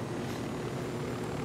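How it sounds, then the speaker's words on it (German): Steady whirring rotor and engine drone of a helicopter in the video game Ghost Recon Wildlands, a continuous loud hum filling the scene without any talk. "Oh, die haben sogar einen neuen Heli für uns."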